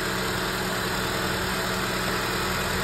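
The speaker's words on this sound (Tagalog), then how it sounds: "pakinggan nyo yung makina mga padi" Mitsubishi Lancer engine idling with a body ground wire attached, a steady, loud, close-up hum with constant vibration and no change in pitch.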